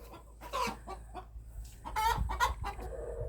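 Chickens in an outdoor run cluck in short, irregular bursts close by, with a rooster-like call rising in the middle over a low steady hum.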